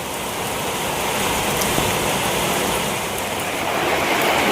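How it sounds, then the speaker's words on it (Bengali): Heavy rain pours down in a steady, dense roar that holds at an even loudness throughout, with no voices and no breaks. "বাপ রে বাপ, কি পরিমাণে বৃষ্টি হচ্ছে দেখো একবার"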